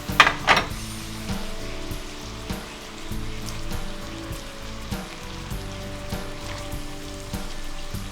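Lumpia filling with cabbage fries in a pan, a continuous close sizzle like light rain, opening with a couple of sharp clanks and then soft utensil knocks as it is stirred, with no voices.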